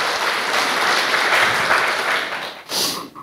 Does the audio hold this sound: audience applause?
yes